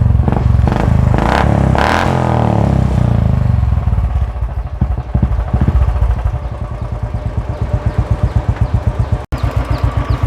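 A Royal Enfield motorcycle engine, just back from repair with its accelerator working, is revved loudly and close, then falls into a rapid steady thumping idle that lasts to the end.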